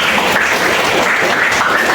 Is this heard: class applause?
yes